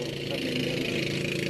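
Marine engine of a large fiberglass boat running steadily up close, a continuous low droning rumble with constant loudness and no breaks.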